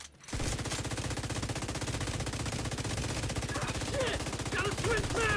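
Sustained rapid automatic gunfire rattles through a shooter video game in a PvE mission, a steady loud stream of shots lasting several seconds with faint higher game effects layered over it near the end.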